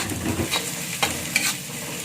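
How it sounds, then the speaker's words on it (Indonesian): Garlic and tomatoes fry in a wok for spicy stir-fried fern greens, a soft sizzle under brief scraping stirs of a spatula, close and quiet, without voices. "kita masukkan bawang putihnya dan tomatnya juga kita masukkan. Kita aduk rata."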